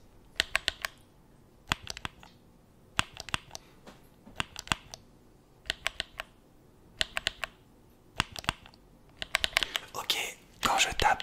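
Buttons on a game controller are tapped in quick clusters of sharp plastic clicks, in steady groups of two to four with pauses between, close and crisp, ending in denser rattling at the end; a faint whisper can be heard.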